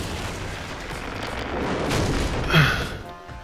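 Bombs in the video game Astro's Playroom explode after being shot, a continuous heavy rumbling blast that swells to a peak near the end before thinning out.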